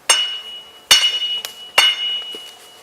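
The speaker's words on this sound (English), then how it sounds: "when you tap the roof, this is what you want to hear" Three sharp metallic taps of a steel bar on solid rock in an iron mine roof ring out with a bright, clear tone, each one struck firmly and left to ring briefly.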